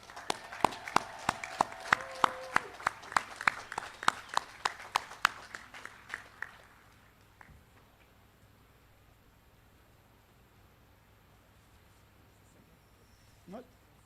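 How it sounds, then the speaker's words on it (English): Audience applause at a high school graduation ceremony, a burst of clapping with sharp individual claps that fades out after about seven seconds, leaving a quiet hall with a faint later thump. "So what I'd like is a big round of applause for each and every one of them."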